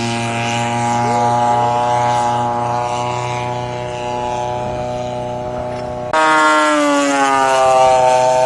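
A propeller warbird lands at an airshow, its engine droning steadily with shifting tones, then the pitch jumps abruptly as power changes, loud and sustained throughout.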